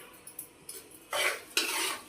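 Semolina roasting in ghee in a pan, with faint scraping and stirring taps at first, then louder bursts of soft sizzling and stirring near the end; no speech.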